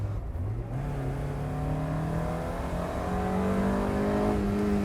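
A 1990 Mazda Miata NA engine revs up while driving, its pitch climbing steadily under load in one continuous close, loud pull with no talk.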